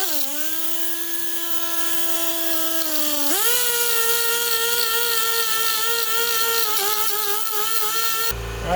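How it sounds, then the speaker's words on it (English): Small cutoff-wheel grinder (whizzer) cleaning rust off a Chevy Silverado front brake bracket: a close, high-pitched steady whine that dips briefly under load and then holds strong until it stops abruptly. "I use a little grinder here. It's called a whizzer basically. Little cutoff wheel."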